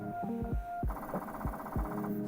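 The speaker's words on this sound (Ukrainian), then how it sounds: "Принтер рухається вздовж усієї поверхні столу, торкається соплом її в багатьох точках" A Creality K1C 3D printer runs its auto bed calibration, with the nozzle moving across the bed and touching it at many points. Whining motor tones come with regular soft low thumps, close by and without talk.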